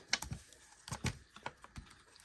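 A tool scores paper along a fold line while a Valentine treat box is made. Brief, dry, close scrapes and clicks come in an irregular series, fairly quiet and with no talking.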